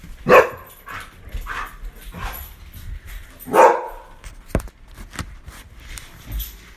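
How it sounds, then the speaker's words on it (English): A dog barks several times at irregular intervals, with two louder, sharper barks standing out among softer yips. "I'm sorry, the dog is barking."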